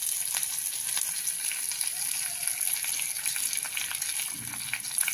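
Mustard seeds, cumin and curry leaves sizzling in hot oil while tempering for an onion-tomato salad, a soft, steady crackle and spatter with faint popping, fairly quiet and uninterrupted.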